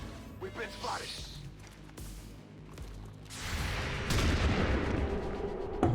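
Two shotguns firing on overwatch in XCOM 2, heard as loud, blasting shots in the second half over a low game soundscape, following a few quieter sounds early on.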